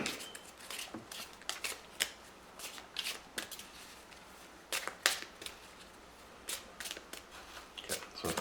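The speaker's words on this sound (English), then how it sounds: "Okay, so everything is shuffled up." A deck of trading cards being shuffled by hand at a table, with repeated short riffling bursts and soft card slaps in an uneven rhythm, close and fairly quiet, with no talking.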